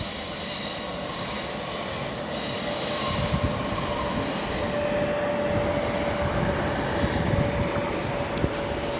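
Avanti West Coast Class 390 passenger train passing through Stafford station on the West Coast Main Line, a loud continuous rumble of wheels on rails with a thin high squeal drawn out over the run.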